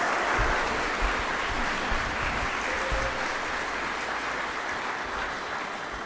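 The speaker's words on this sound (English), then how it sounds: "Give her a round of applause." Sustained audience applause fills an awards-ceremony hall at the 2023 Victoria Australian of the Year Awards, a dense, steady wash of many hands clapping at even loudness for about six seconds, with no voices rising above it.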